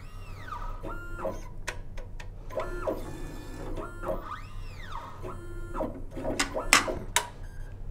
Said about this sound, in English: The stacker itself is going to load a plate and attempt to place it on the plate carrier for the washer.